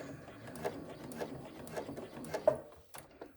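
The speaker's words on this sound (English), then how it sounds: "Sewing at 1/8 of an inch from the edge where we have cut the shaped tab, using a long stitch length for top stitching and not back stitching." A sewing machine runs steadily, top stitching a shaped bag strap tab about an eighth of an inch from the edge with a long stitch, producing a close, even mechanical whirr.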